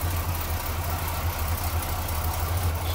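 A 1968 Cadillac DeVille convertible's 472 V8 idles steadily with a deep, rumbling low-frequency throb, loud and close, running continuously without any talking.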